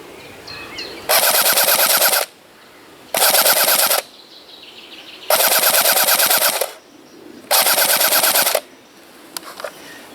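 A Cyma CM.060 airsoft gun powered by a 7.4 volt lipo fires on full auto in four loud, close bursts of rapid rattling shots, each lasting about a second, separated by short pauses.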